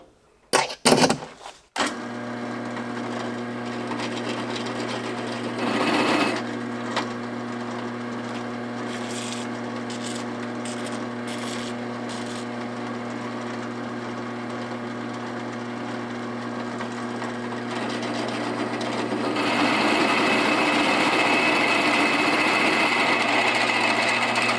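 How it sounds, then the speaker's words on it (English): A power drill with an excessively long 7/16 bit runs steadily for over twenty seconds with a constant whine, its pitch shifting slightly near the end, after a few sharp knocks at the start, working on a 1974 Corvette Stingray's wheels. "Now we're going to step up to a 7/16. Seems to be the magical size. And this drill bit's excessively long."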